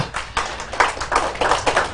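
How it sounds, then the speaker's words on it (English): Audience hand clapping on a live talk show, a loose scatter of separate sharp claps with uneven rhythm, close and moderately loud, with no talk over it. "Let's give a hand clap to that."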